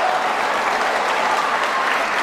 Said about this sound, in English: Look at the crowd, everyone's gone crazy.